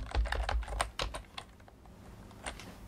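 Keystrokes on a computer keyboard while Python code is typed, a quick irregular burst of clicks at the start, then sparser isolated taps, close and fairly quiet with no voice.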